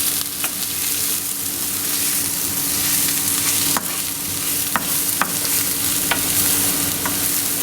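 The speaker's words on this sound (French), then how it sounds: "tu mets 400 grammes de riz et tu continues à faire cuire donc jusqu'à ce que le riz devienne translucide aussi" Rice toasting in fat in a pan for risotto gives a loud, steady sizzle and frying crackle, with a few scraping stirs of a utensil, close and continuous with no talk.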